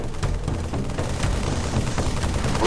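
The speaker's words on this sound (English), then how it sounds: "Tom Doyle, said, hey, this is a great chance to bring back the assault rifle from Halo 1." Rapid automatic gunfire from the Halo assault rifle in a video game, a dense continuous burst of rattling shots lasting a few seconds, loud and close with no talking.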